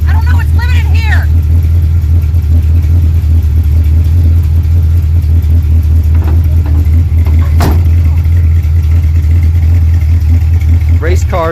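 A 1980 Chevrolet Malibu engine idles and rumbles loudly and close while backing up, a steady low throb with occasional clatter.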